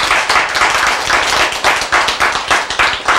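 Audience applause from a gathered congregation at a Korean sermon, loud and close, dense rhythmic clapping that swells in waves for about three seconds with no voices over it.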